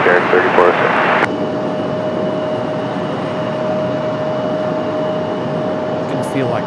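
Aircraft on runway 23 right at Raleigh-Durham International, a broad steady engine roar with a sustained tone, heard after a brief burst of tower radio chatter at the start.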